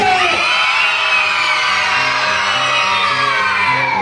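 A crowd shouts and cheers together at a lively children's show, a loud sustained wall of voices and whoops with high-pitched yells rising over the audience noise throughout.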